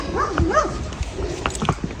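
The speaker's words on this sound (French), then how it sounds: "C'est le chien." A nearby dog barks and yelps a few times in quick succession, with some quieter scuffling sounds after the calls.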